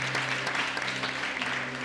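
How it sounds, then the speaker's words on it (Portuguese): A church congregation claps for Jesus, dense steady applause filling the room with a low hum of voices or music underneath, continuous throughout. "Você pode aplaudir o Senhor Jesus."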